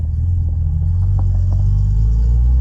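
A 1967 Jaguar E-Type engine rumbles steadily with a deep low drone, a smooth continuous cruise with no voices and only faint shifts in tone.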